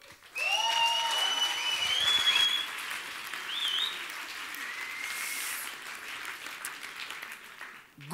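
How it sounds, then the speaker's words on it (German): Applause rises sharply for a science slam speaker at the Roxy in Ulm, a dense crowd clapping near and loud with a few whistles and cheers early on, then thinning and tapering off over several seconds. "Ganz herzlichen Applaus für unseren nächsten Slammer"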